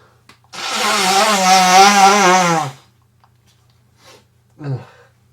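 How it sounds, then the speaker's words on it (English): One loud, drawn-out nose blow from someone with a bad cold, a honking, buzzy blast lasting about two seconds, close by, followed by a couple of faint sniffs. "I've got a terrible cold, so I'm just gonna blow my nose."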